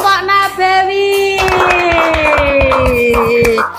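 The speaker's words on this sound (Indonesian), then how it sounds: "Tepuk tangan untuk kelompok Nabawi." A classroom group claps together after a tone-like voice trails off, producing a short burst of rhythmic hand claps with some voices mixed in.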